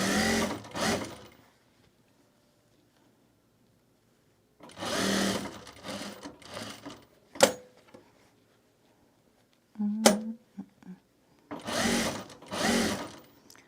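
A sewing machine stitches around the perimeter of a self-drafted fabric bag in several separate bursts of buzzing motor whir, with quiet gaps and a few sharp clicks between runs.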